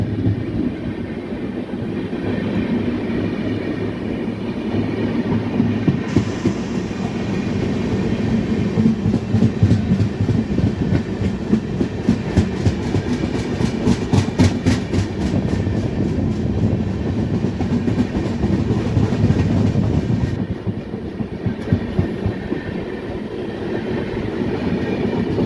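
Rani Chennamma Express running on rails between Hubli and Miraj, near Londa Junction: a steady, close rumble with rhythmic clickety-clack of wheels over rail joints, continuous throughout with no voices.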